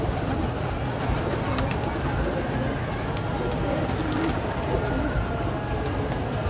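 Pigeons coo softly among a crowd of birds in a pigeon-catching setting, low murmuring calls over a dense, noisy background with occasional rustling, and someone talks throughout.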